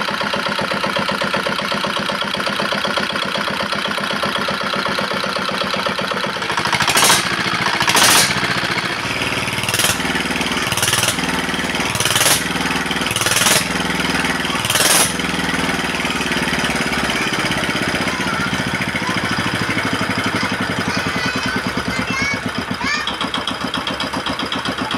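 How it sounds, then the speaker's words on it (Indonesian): An R175 single-cylinder diesel engine, serviced with a new crankshaft, runs loud and close with a steady hammering knock, punctuated by several sharp bursts before settling into an even chug. "mesinnya sudah bisa hidup ya"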